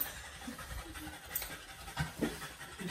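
A French bulldog or poodle pants steadily up close, quick breathy rasps repeating through the short stretch with a faint scratchy rustle.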